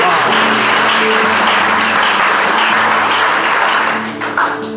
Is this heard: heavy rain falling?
no